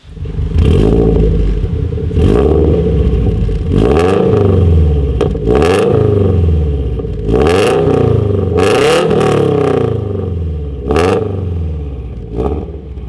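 A car engine with a straight-through muffler exhaust revs hard in repeated loud bursts, each rise falling back between blips, close and dominant over a steady rumble.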